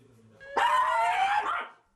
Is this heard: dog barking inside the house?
yes